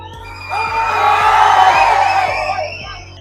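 A large crowd of college students at a first-year welcome event bursts into loud cheering and whooping with shrill whistles, swelling for a couple of seconds before fading.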